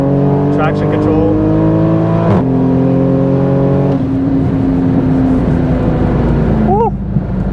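A Toyota MK5 Supra fitted with a top-mount turbo accelerates hard at wide-open throttle, its engine note rising steeply through quick gear shifts, loud and close from inside the cabin.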